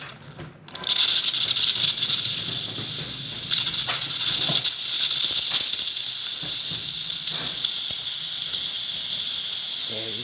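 Steam wand of a DeLonghi Magnifica XS espresso machine hisses steadily after a full service, a continuous bright jet of steam with faint mechanical clicks beneath, sustained and fairly close.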